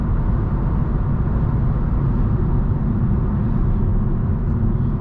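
Steady broadband tire and road roar inside a 2022 Honda Civic Sport cruising at 65 mph, a constant low rumble with faint wind hiss and no voices.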